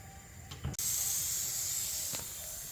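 A sudden, steady hiss of escaping steam from a pressure cooker cooking okra starts after a brief clatter and keeps going strongly and evenly to the end.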